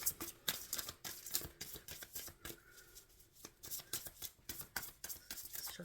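Tarot cards being shuffled by hand, soft, rapid riffling and flicking bursts repeating irregularly, close and quiet with no talk.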